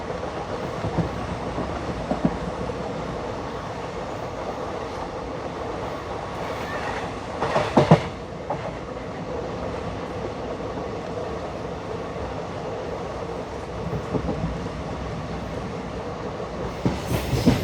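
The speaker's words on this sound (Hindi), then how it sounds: "जो कि अभी हमारी ट्रेन धीरे धीरे ट्रैवर्स कर रही है" A passenger train rolls slowly along the railway line toward the Pamban bridge, heard from on board as a steady rumble with clattering wheels and a brief louder rattle midway.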